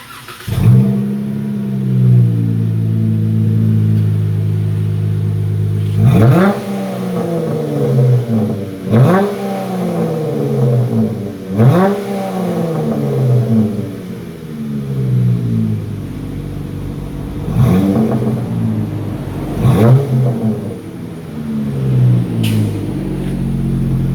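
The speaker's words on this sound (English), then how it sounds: "Got a good deep throaty sound for a V6." Stock 2016 Dodge Challenger V6 with mid and rear mufflers removed and single-chamber V-tube mufflers, idling with a deep burble, then revved in five or six sharp blips that rise and fall back to idle, close and loud.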